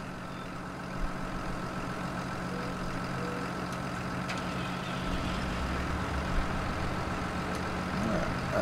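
Tractor engine idling and running in Farming Simulator 19, a steady low rumbling drone with a constant hum that stays even throughout, with a few faint clanks.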